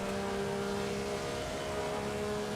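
Maserati 250F race car in Assetto Corsa at Monza, its engine droning steadily and loud with a strong, unbroken tone, held under load for the whole stretch with no talk over it.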